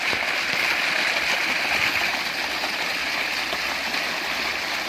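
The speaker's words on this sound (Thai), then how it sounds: "อันนี้เราเปิดน้ำเข้ามาพี่น้อง" Water rushing steadily into a non-electric high-pressure pump at a stream in Huai Pa Lao, a loud continuous gushing hiss that stays even throughout with no pauses.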